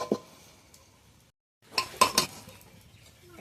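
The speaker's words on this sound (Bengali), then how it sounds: "সুজিটাকে একটা প্লেটের মধ্যে ঢেলে নিয়েছি আর নিয়ে একদম সমান করে নিয়েছি।" Semolina halwa made with milk and coconut poured from a pan onto a plate, heard as a few sharp metallic clinks of utensil against dish after a brief silence, close and fairly quiet.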